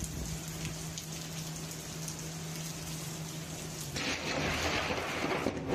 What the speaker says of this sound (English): this video showing the instant a lightning strike knocked out the power in a city